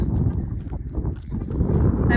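A horse walks on a scenic dirt road in Monument Valley, hooves thudding in low, irregular clip-clops close by, mixed with rustling and a muffled human voice.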